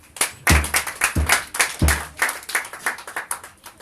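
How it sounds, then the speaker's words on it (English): A church congregation claps hands for the Lord again, a close, rhythmic run of group clapping with heavy accented beats and lighter claps between, continuing steadily throughout. "Clap hands for the Lord once again"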